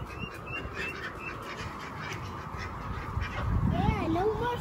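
A flock of ducks being fed quacks close by in a busy overlapping chorus, loudest toward the end, while people talk over them.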